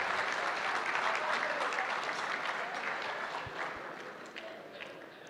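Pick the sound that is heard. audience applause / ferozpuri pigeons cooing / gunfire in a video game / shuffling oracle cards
audience applause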